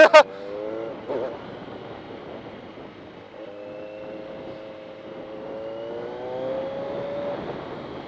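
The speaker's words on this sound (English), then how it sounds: "I love the exhaust on this thing." A motorcycle engine idling and revving with a steady exhaust drone, rising in pitch a couple of times, heard close up with some wind noise.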